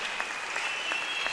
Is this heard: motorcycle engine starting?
no